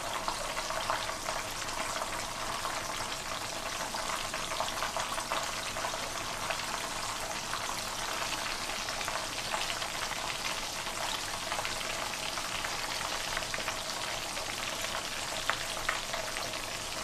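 Whole fish and smelts crackle and sizzle in hot oil with a dense, continuous frying hiss that stays steady and close throughout.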